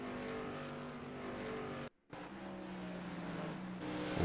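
Race cars roar past on a short oval track, a loud continuous engine drone with a brief gap before the next car sweeps by close.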